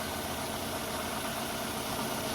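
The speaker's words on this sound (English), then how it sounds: "The engine noise has not changed, so that means that this coil is out of order." Idling engine of a 2002-2006 Toyota Camry with a faulty ignition coil: a steady, close, even drone with a low rumble and no pauses, alone with no talking.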